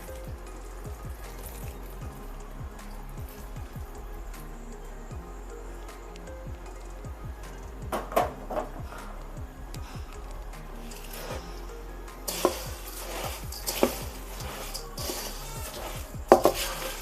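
Puffed rice is stirred into syrup in a pan with the stove off, making soft, crunchy, sticky rustling under repeated quiet scrapes, with louder clinks and brushing toward the end.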